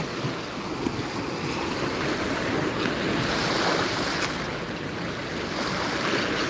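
Sea waves wash steadily onto Digha Mohana beach in a continuous broadband roar mixed with wind noise on the microphone, with no voices heard.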